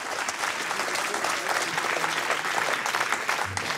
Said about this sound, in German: mal einen Applaus für die Damen